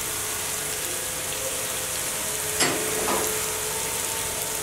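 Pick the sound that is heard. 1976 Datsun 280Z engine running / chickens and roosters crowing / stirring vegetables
stirring vegetables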